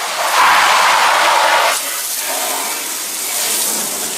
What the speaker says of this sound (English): And we'll hose it off.